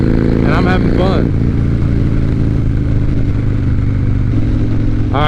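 A Harley-Davidson Dyna motorcycle rides at highway speed, engine loud and close with a steady throbbing drone, rising tones as it shifts through the gears, and a voice talking over it.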